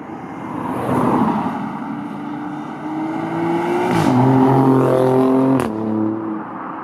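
Alfa Romeo Stelvio Quadrifoglio SUV driving on the road, its engine revving and climbing through gears with rising tones and a sharp shift, loud and close with no talk.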